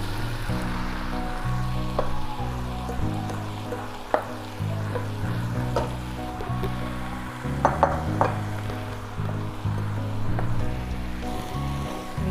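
Potatoes sautéing in a pan give off a steady, moderate sizzle throughout, with a few sharper clinks and scrapes as they are stirred and turned, and no one speaks.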